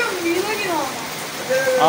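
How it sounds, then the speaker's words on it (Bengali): Steady heavy rainfall hisses throughout while a person talks over it. "দেখো বৃষ্টির পরিমাণ।"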